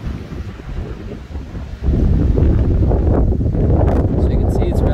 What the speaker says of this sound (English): So it's a Typhoon 8. Winds are actually quite strong.